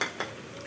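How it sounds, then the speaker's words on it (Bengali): Chicken and egg chow mein noodles stirred in a hot pan, two quick scraping strokes over a continuous soft sizzle, close and brief with no voices. "নুডলস নাড়াচাড়া করছে"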